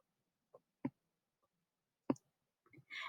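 Mouse clicks while placing points in GeoGebra, a few isolated close clicks spaced apart in quiet, followed by a brief rustle at the end.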